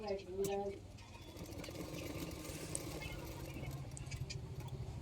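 A sewing machine stitches the side seams of an umbrella frock, a soft, rapid mechanical patter running steadily under a voice.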